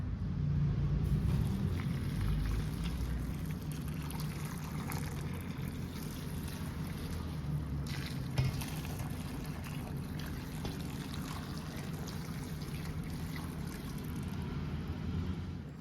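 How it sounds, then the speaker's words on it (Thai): Hot water poured from a kettle or pot onto napa cabbage in a home kitchen while making suki rolls, a steady close trickling and splashing stream running continuously. "เราจะเทน้ำร้อนนะคะใส่ลงไปในผักกาดขาวที่เราเตรียมไว้"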